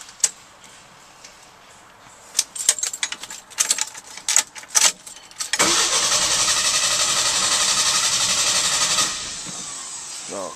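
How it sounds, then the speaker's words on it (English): The engine of a 1983 Jeep CJ7 is cranked during a compression test: scattered mechanical clicks, then a few seconds of loud, steady, rhythmic starter cranking up close that stops abruptly. "I'm going to crank it over about four times"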